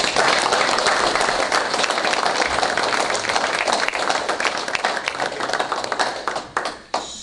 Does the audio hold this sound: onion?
no